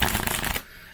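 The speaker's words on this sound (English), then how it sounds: "It has that little snapback in the riffle shuffle." A deck of Game Crafter card-stock tarot cards is riffle shuffled, giving a dense, fast ripple of flicking cards lasting about half a second before stopping abruptly.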